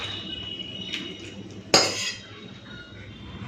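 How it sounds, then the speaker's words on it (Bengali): Elephant yam and shrimp curry is served onto a plate with utensils, a soft background hiss broken by one sharp metallic clink partway through, followed by quieter scraping. "বেশ থালাতে ঢেলে নিলাম ওল চিংড়ি"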